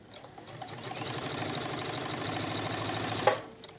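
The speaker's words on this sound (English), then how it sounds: "So we're gonna start stitching here." A sewing machine runs a straight stitch through stretchy fabric, stitching steadily for about three seconds, with a rapid, even mechanical hum and clatter that stops with a click near the end.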